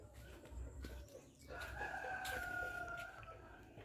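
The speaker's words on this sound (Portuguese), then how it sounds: "As galinhas." Chickens on a farm cluck and call in short bursts beside a pen of young pigs, with a faint rooster-like crow, moderately close over low rumbling background noise.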